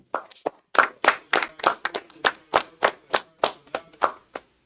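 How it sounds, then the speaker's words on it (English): A group claps hands in a ragged, loosely rhythmic run of about a dozen sharp claps, starting with a few scattered hits and settling into a steady beat, close and fairly loud with no talking over it. "Alright, clap it up"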